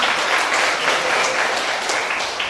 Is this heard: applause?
yes